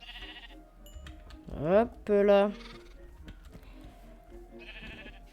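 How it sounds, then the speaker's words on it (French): Two short sheep bleats from a video game ring out in quick succession, clear and close, with a voice speaking briefly in French before and after. "Ouais, les moutons"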